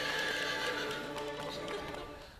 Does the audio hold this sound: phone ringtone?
no